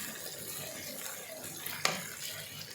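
One kilogram of chicken stirred in oil over a full high flame gives a soft frying hiss with a brief sharp scrape partway through.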